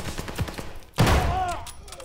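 Rifle gunfire in a video game: a loud, close shot bursts out partway through and rings off with a long decaying tail, preceded by a few softer thumps and clatters.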